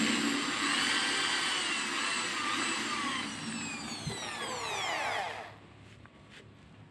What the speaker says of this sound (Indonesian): Dan kita lakukan pengeboran untuk mata bornya sendiri.